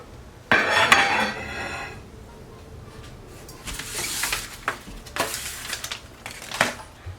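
Pots and bowls handled during a kitchen declutter: a sharp clatter near the start, then a run of rattling clinks and knocks toward the end, close and fairly loud, with no talk.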